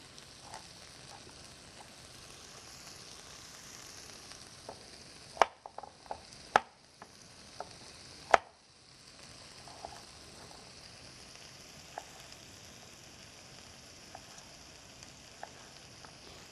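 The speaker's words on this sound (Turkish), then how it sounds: "yan tarafta havucumu kesiyorum güzelce ve havucumu göndereceğim" Carrots being chopped on a board for Uzbek pilaf, a few scattered knife knocks over a quiet background hum of gentle frying.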